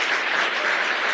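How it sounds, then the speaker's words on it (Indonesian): Steady, dense applause from a seminar audience at an Indonesian motivational talk, a continuous wash of many hands clapping with no voices on top. "minta Anda untuk tepuk tangan untuk ibunda tercinta saya"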